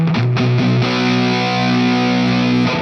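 Electric guitar played through a distortion patch on a Boss GP-50 style multi-effects unit: a few quick notes at first, then a sustained, thick overdriven chord ringing steadily and loudly for a couple of seconds, with no talking.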